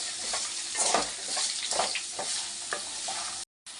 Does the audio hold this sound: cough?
no